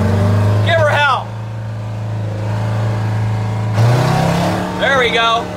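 A Euclid R-13 rock truck's engine idles with a loud, steady low drone, then revs up sharply near the end, with brief human voices heard over it at the start and finish.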